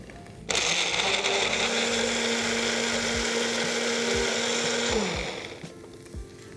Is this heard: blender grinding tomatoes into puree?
yes